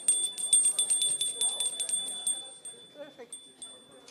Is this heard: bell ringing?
yes